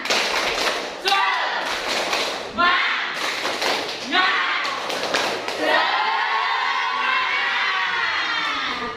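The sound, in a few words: group standing rhythmic clapping cheer (tepuk semangat)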